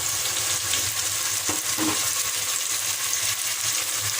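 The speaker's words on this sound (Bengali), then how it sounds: "আর পেঁয়াজগুলো ভাজা ভাজা হয়ে গেছে।" Onions frying in a pan for mutton bhuna with cabbage, ginger, garlic and coriander and cumin paste, giving a steady, loud, close sizzle with a couple of faint stirring clinks.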